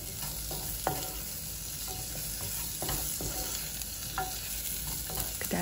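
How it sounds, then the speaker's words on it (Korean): Onion stir-fries in chili powder and sesame oil over medium-low heat, a continuous even sizzle with scattered light scrapes and taps of a spatula stirring. "양파 볶아주고요."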